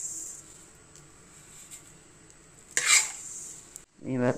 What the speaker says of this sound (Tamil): சாமையும் நல்லா வறுபட்டுருச்சு